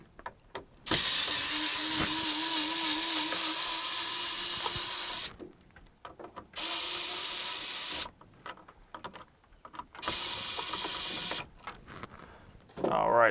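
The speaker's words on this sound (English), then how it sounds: "let me go ahead and unscrew this switch" A power screwdriver unscrews a wall light switch from its electrical box in three loud whirring bursts with brief quiet gaps between them.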